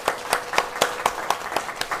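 A church congregation at a Sunday morning service claps in a steady, even rhythm of sharp claps, about four per second, moderately quiet throughout.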